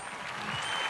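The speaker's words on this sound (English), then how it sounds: "I can hear the crowd. They're shouting LLLLL." A video game crowd cheers and applauds inside a Colosseum, a dense, steady roar of claps and voices that swells slightly toward the end with no clear speech.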